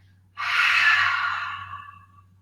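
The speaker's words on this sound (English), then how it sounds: "Take a nice inhale here through the nose and open the mouth as you exhale out" A single close, breathy exhale pushed out through an open mouth follows a nasal inhale during seated chair yoga, fading gradually over about two seconds above a low steady hum.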